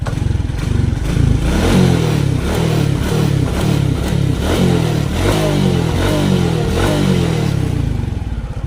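A Suzuki Rider J 115 Fi motorcycle engine, just back from a throttle body cleaning for a stalling fault, revs loudly and continuously up close, its throttle blipped in repeated rising and falling bursts with no talk.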